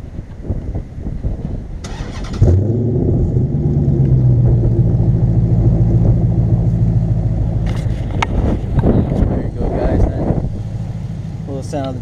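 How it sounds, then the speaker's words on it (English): A Dodge Charger's engine cranks briefly, then catches and settles into a deep, loud rumbling idle nearby, with a rev blip later on, while people talk over it. "Sound of the charger"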